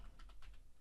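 Brief bursts of typing on a computer keyboard, a few quick key clicks in a short irregular run, close and fairly clear over faint background hum.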